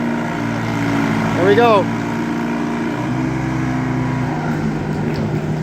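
A vintage tractor engine labours under load during a pull demonstration at an antique power show, a steady low rumble with a brief rising whine midway, while someone speaks briefly nearby.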